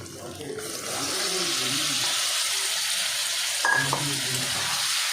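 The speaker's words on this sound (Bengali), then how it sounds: "আমি এবার ভাজা চিকেনটা দিয়ে দেবো" Loud, steady sizzling of chicken frying in spice paste in hot oil, with a brief scrape of stirring near the end.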